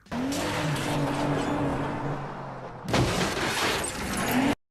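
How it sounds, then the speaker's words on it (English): A Pontiac Grand Prix skids and crashes in a Dexter TV episode: a loud, sustained tire squeal with engine noise, broken by a sudden impact burst, then more squealing before an abrupt stop. "just look at this car crash and tell me that Dexter wouldn't at least have like 5 broken bones"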